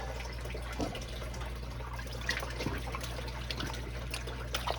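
Dirt and water sloshing in a gold pan, a soft continuous trickling wash with a few brief splashes over a steady low hum.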